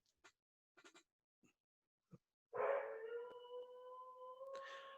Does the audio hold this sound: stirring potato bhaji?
no